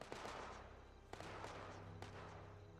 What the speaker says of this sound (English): They are liberators, and they're shooting my turrets from a distance.